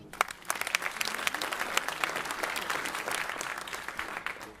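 An audience bursts into steady applause at a school gala, a dense, sustained clatter of many hands clapping in a hall that holds for several seconds before thinning slightly at the end.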